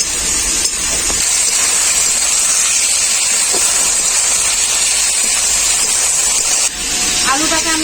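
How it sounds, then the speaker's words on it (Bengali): Potatoes sizzle steadily in a hot pan during a lightly fried stage of a bhola fish curry, a loud continuous hiss with brief scraping near the end. "আলুটাকে আমি খুব বেশি বসাবো না হালকা করে একটু বসিয়ে নেবো"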